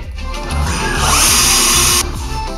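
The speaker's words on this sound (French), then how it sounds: "Et c'est une visseuse. Ah, tu ne fais que visser, en fait." A cordless screwdriver drives a screw in one loud, steady two-second whir with a rising motor pitch, then stops abruptly.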